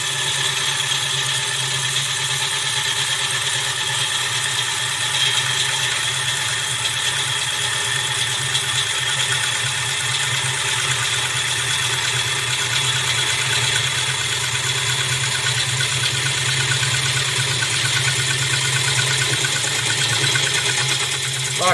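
Wood lathe running continuously with a gouge cutting a spinning workpiece, a steady mechanical hum and hiss with no breaks, close and loud.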